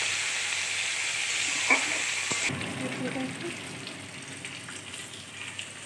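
Onion and potato fry in oil with green chili for a cauliflower and rohu fish curry, a soft steady sizzle that shifts midway as ingredients go in, with light stirring clinks.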